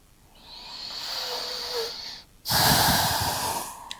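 A person practising yoga draws in a long, slow breath, then releases a louder, rushing exhale, both close and clear with no speech.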